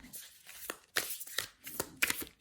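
A tarot card deck shuffled by hand: four quick riffling bursts of papery cards, close and fairly quiet, with brief pauses between them.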